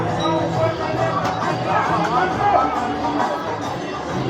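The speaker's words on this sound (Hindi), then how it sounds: "तो देख सकते हो कि बहुत ही अपार भीड़ है" A dense crowd murmurs with continuous overlapping chatter, loud and steady throughout, voices blending into a constant hubbub.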